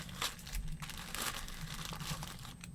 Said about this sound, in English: It's just kind of pulling some of these bags.